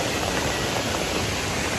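Heavy monsoon rain pours steadily near Tirathgarh Waterfalls in Chhattisgarh, a dense, even roar of falling water that stays loud and unbroken throughout, with no voices.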